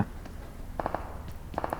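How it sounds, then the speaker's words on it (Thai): Gunfire in the PUBG Mobile video game, two quick bursts of three sharp shots each, moderately loud over a low background rumble. "เอ้ย เสียงปืน"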